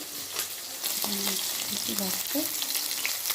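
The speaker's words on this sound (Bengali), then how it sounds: "এগুলোকে আমি ভেজে নিচ্ছি।" Fish coated in salt and turmeric frying in hot oil in a pan, a steady close crackling sizzle with a few soft stirring scrapes and no talk.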